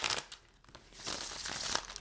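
Brief crisp riffling of tarot cards being shuffled, a quick papery flutter that fades then returns more densely.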